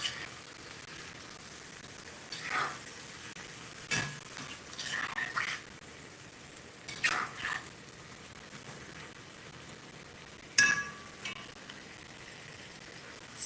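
A spoon stirs mixed vegetable curry gravy in a cast iron pot while it sizzles softly in the background. Several scraping strokes come in short bursts, and one sharp clink of metal on metal is heard.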